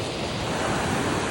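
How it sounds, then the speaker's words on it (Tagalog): Sea waves roll onto a beach in a steady broadband wash of surf, loud and continuous, with possible wind noise on the microphone. "Oh, grabe yung alon, guys."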